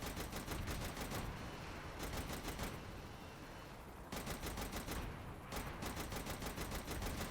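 Helicopter minigun in Saints Row The Third firing in long rapid-fire bursts, a dense rattling stream broken by short pauses, loud and close with no voices over it.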